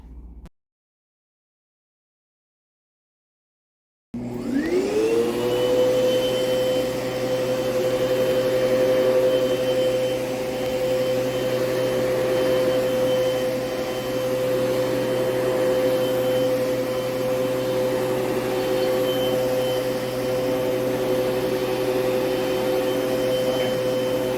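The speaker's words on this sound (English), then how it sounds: "we're going to vacuum this up" Following a brief bump and a few seconds of silence, a vacuum cleaner switches on and spins up to a loud, steady whining roar. It runs continuously while a floor is vacuumed, with no talking.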